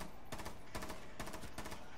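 Rapid bursts of automatic fire in Rainbow Six Siege, four short clustered volleys at a steady pace, heard faintly and alone with no voices.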